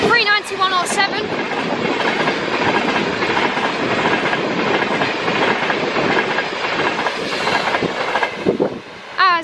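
A Class 390 Pendolino electric train, unit 390 107 on a Glasgow to London Euston service, races through Crewe station at high speed with a loud, sustained broadband roar and rolling rail noise, brief voices at the start.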